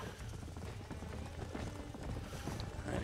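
Horse hooves clip-clopping in the Western video game Red Dead Redemption, a steady rhythmic trot of several animals in a herd, mixed with game ambience at moderate loudness.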